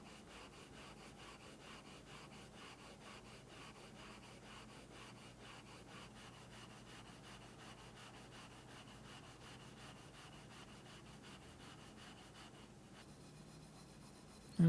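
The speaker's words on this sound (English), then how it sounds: "I'm going to take a radius block and slowly sand in the radius of the fretboard" A radius block sands the curve into a guitar fretboard with steady, even back-and-forth strokes, a soft rhythmic abrasive rasp kept up close throughout.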